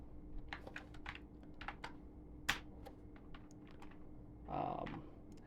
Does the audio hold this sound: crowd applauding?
no